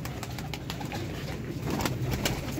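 Pigeon cooing close by in a loft of breeding pigeons, soft repeated coos over a continuous rustling background, no talk.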